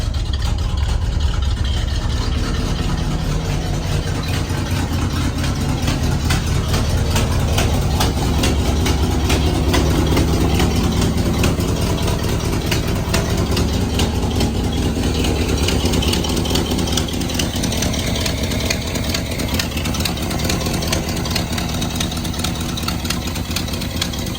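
A 1978 Chevrolet K30 truck's heavy engine idles steadily and continuously while warming up, a low rumble with a constant throb, close by, with no talking.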